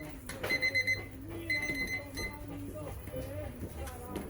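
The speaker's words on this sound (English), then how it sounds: "Let me go hit that timer real quick over here." A brew-day kitchen timer beeps in two short bursts of rapid electronic tones over Mexican ranchera music playing in the background, with faint voices around.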